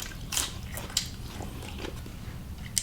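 Soft bites and wet chewing of Lao beef stew with gailan and scallion, a few close, quiet crunches and squishes spread over a couple of seconds.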